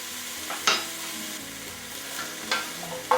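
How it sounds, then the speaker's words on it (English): Onions and peppers sizzling in a hot pan for diet soup, a steady close frying hiss with a few scraping stirs of a utensil against the pan, no talking. "And we stir that around, and we're going to let that go for about 2 minutes."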